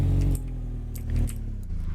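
Car engine from a game about swapping a V6 into a 205 revs near and loud with a throaty, rumbling low tone, swelling briefly twice over a couple of seconds, with light metallic jingles above.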